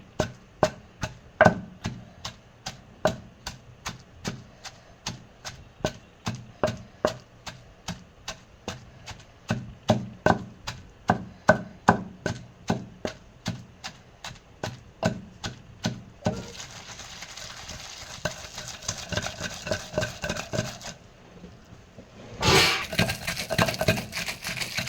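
Tomato and green chili chutney pounded by hand, a steady run of sharp, regular thuds at close range for most of the stretch, then a brief quieter pause and a final burst of noise.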